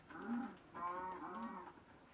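A cow in the Minecraft video game gives two clear, drawn-out moos one after the other, close and prominent with no talking.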